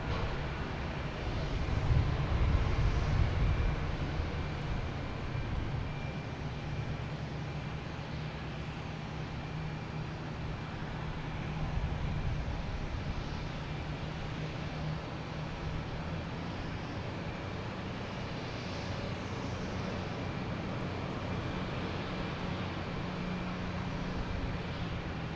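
A Spirit Airlines Airbus A321 airliner takes off at Boston Logan, a steady broadband jet roar holding for the whole stretch with a slightly louder swell early on, distant and continuous, with no voices.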